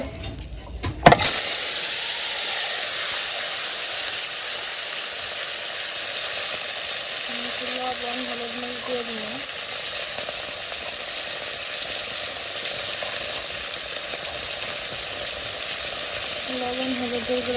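Vegetables fry in a pan during simple village cooking, a steady broadband sizzle that starts abruptly after a brief bump and holds evenly and close throughout, with faint kitchen sounds and a little background speech.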